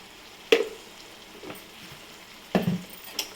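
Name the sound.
stirring curry with garam masala in a pan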